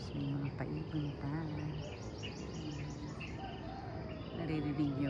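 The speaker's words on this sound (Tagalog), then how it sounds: "Naririnig nyo ba ang mga huni ng ibon dito?" Birds chirp and tweet around a provincial house in the morning, with repeated high bright calls scattered over a steady insect-like buzz, moderately close and mostly alone.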